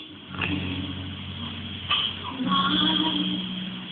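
A car passes nearby with a moderate engine hum that swells and revs up toward the end, under faint background voices.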